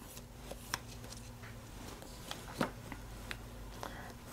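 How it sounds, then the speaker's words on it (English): Nail buffer rubbing and scraping over the blade of a beauty shear with a crescent-shaped nick, a steady close grainy friction broken by a few sharp clicks and taps. "Let's go over it with a nail buffer"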